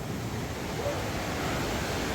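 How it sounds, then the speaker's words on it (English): A river rushes beneath a garden terrace near the Tajik-Afghan border, a continuous broadband roar of flowing water, steady and full without pause. "the river crosses just underneath the terrace here"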